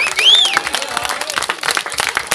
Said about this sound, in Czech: Určitě bouřlivý potlesk všem zúčastněným.